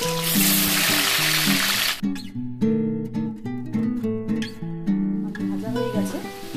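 Potatoes sizzle in hot oil for about two seconds in a home kitchen cooking jackfruit, a loud steady hiss under background music that carries on alone after the frying noise stops.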